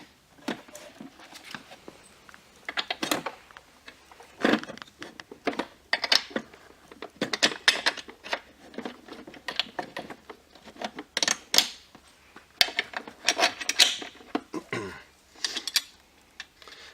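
Nuts being tightened onto bolts while a frame is assembled, a busy run of metallic clicks, ratcheting and clanks in uneven bursts, close and moderately loud with no talk.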